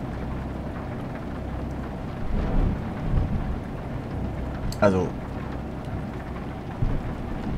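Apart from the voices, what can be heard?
thunderstorm with rain on a Romanian mountain road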